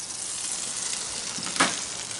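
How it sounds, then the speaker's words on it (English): Brisket fat sizzling inside a Masterbuilt electric vertical smoker, a steady soft crackling hiss throughout with one sharper pop partway through, no voices. "Now that sound you're hearing of all that sizzling"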